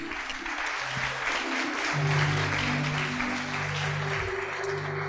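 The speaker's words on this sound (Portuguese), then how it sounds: "dê mais um aplauso ao Senhor Jesus." A church congregation claps during a family service, a steady bed of applause with sustained musical tones playing underneath, fairly loud throughout.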